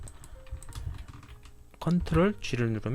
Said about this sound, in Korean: 그 단축키는 컨트롤 G를 누르면